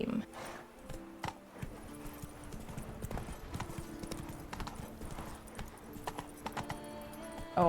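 Hooves of Roach, the horse in The Witcher 3, clop in a quick, steady rhythm over a faint game soundscape, with brief pauses and a louder thud at the close.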